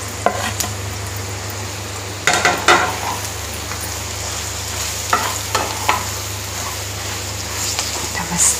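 Okra and potato frying in a pan are stirred with a spatula, making repeated scraping strokes over a steady sizzle and an electrical hum, close and fairly loud, in bursts spread through several seconds.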